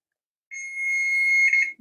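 A kitchen timer beeps after parsley goes on a vintage-recipe dinner dish, giving a steady, fairly loud high-pitched electronic tone for over a second with a slight warble near the end before cutting off.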